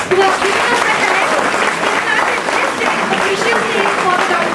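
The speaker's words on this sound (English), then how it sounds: "Please give a big applause for the doctors who have given us the time." A room full of people claps for visiting doctors at a health talk, a loud, dense and steady wash of applause that holds for several seconds.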